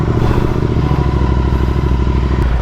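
A Royal Enfield GT 650 fitted with a Red Rooster aftermarket exhaust idles right after starting, a loud, close, lumpy twin-cylinder thump with a rapid uneven beat and steady rumble.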